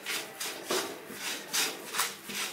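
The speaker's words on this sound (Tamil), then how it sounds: "எல்லாத்தையும் சேர்த்து லைட்டாக பரட்டிக்கிட்டே இருக்கணும்" Curry leaves being stirred and dry roasted in a pan for curry leaf powder, giving soft rhythmic scraping and rubbing strokes, close and fairly quiet, with no talking.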